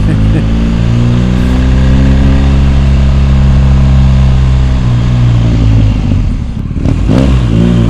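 An Indian motorcycle engine revs loudly up close, a steady powerful drone holding its pitch before dipping and surging again near the end.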